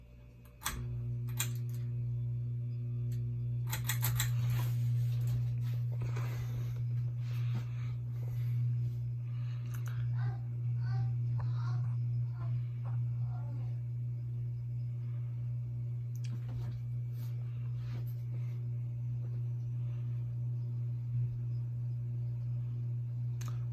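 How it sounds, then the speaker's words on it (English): Steady low hum of a Hampton Bay Bridgeton ceiling fan motor running on its low setting, with faint clicks and household noises scattered over it. "So I'm about to go on and turn this fan on, starting off with low."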